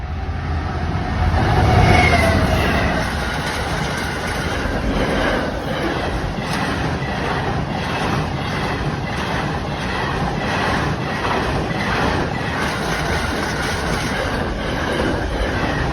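A train rolls loudly past at close range, its wheels beating out a steady rhythmic clatter over the rails for a long, continuous stretch.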